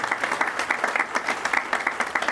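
Crowd applause at an outdoor Memorial Day ceremony at Fort Custer honoring a pipe band and color guard, a steady, even clapping of many hands at moderate volume, slightly distant, with no talking.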